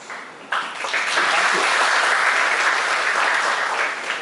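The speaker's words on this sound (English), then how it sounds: "Now that you already clapped for me" An audience claps for a speaker at a talk, the applause bursting in suddenly and then holding as a dense, even roar of many hands for several seconds.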